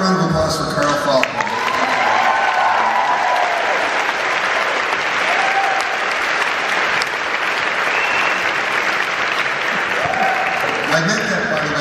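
Sustained, loud audience applause with some cheering fills a concert hall at an Indoor Garden Party show in Union Chapel, London, steady throughout with a few voices at the start and end.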